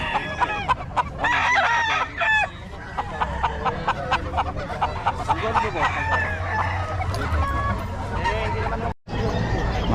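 Chickens and roosters at a poultry seller's stall, with repeated loud crowing and clucking from several birds close by, under a background of people talking and market chatter.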